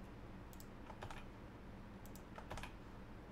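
Keystrokes on a computer keyboard while a password is typed, a few quick bursts of soft clicks in two clusters over a steady low background hum.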